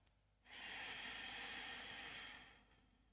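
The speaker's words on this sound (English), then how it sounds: "And then breathing slowly in." A single slow, deep in-breath taken during a guided meditation, a long airy inhale heard close up and alone that swells in, holds steady for about two seconds and then fades.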